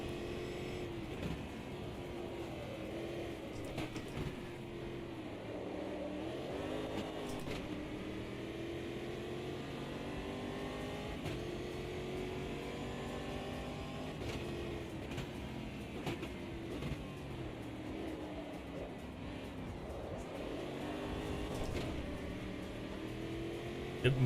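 Race car engine in the Automobilista 2 racing game, a continuous droning whine that rises and falls as the car shifts through gears, heard faintly and steadily over about twenty-four seconds.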